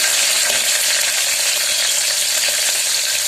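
Chopped green chillies sizzling in hot tempering oil for pulao, a loud, steady, close crackle and hiss that runs unbroken throughout.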